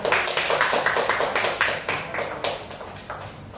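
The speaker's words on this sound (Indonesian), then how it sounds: "Oke, berikan tepuk tangan kepada semua." A classroom group claps together during a microteaching lesson, brisk rhythmic bursts of hands that are fairly close and gradually fade, with no talk over them.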